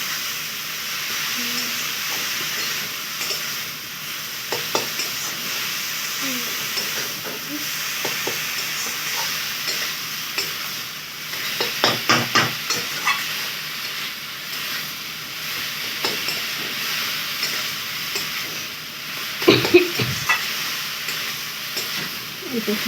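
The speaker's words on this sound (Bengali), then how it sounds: "তারপরে গ্রেট করে ভেজে রাখা পেঁপে আর লাউ দিয়ে আলু দিয়ে ভালো করে কষিয়ে নেওয়া হচ্ছে মশলার সাথে" Grated papaya, bottle gourd and fried potato stir-fried with spices in a pan, giving a steady close sizzle with scattered spatula scrapes and a brief louder clatter of stirring near the middle and end, no talk.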